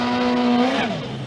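Formula Drift race car on the Palm Beach course, a loud close engine drone with a steady pitch that bends downward as the car backs off near the end.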